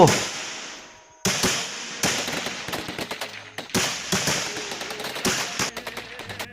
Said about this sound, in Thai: ส่วนเสียงที่สอง เป็นเสียงปืน M16 ของฝ่ายตรงข้าม